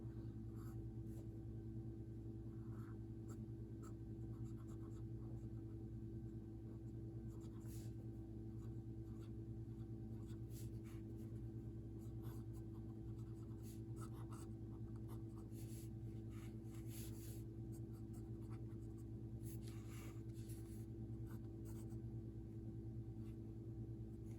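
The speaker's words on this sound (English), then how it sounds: "All right, so I'm going to write here as well." An Aurora 88 Ottantotto fountain pen writes on a Rhodia dot pad in a long stretch of soft, close scratching with scattered light strokes and ticks, over a steady low background hum.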